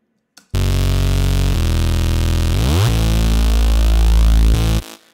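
A synthesized Reese bass patch from Phase Plant plays as one loud, sustained detuned tone, buzzing and steady with a sweeping, phasing shift partway through, then cutting off cleanly.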